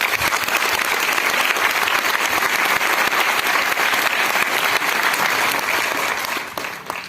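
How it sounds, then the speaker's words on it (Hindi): A large audience at a motivational success-training seminar gives sustained, loud applause for several seconds. The clapping is thick and continuous, then thins out and fades at the end. "तो उनके लिए ताली बजती है"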